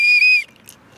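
A fence judge's whistle at a horse eventing competition gives one loud, steady high-pitched blast of about half a second, then cuts off, leaving quiet background with a faint brief chirp.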